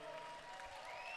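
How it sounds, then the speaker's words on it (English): Crowd applause at a Mortal Kombat 1 tournament, the CEO 2024 top 8, a steady wash of clapping and cheering that holds at even loudness for the whole short stretch. "But guys, in the crowd, can y'all make some noise for Burrito"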